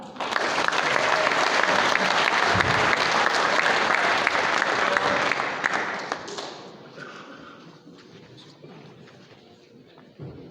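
Applause from an audience at a racing awards event honoring a modified-division race car driver, a dense sustained clapping that swells for about six seconds, then fades into scattered claps and crowd noise.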